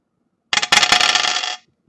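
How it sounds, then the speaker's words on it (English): Dice tossed for a randomizer during a sports card case break clatter sharply across a hard surface in a single roll of about a second, close and loud. "And let's go with the roll of the dice."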